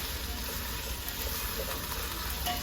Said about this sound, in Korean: 일단 볶는데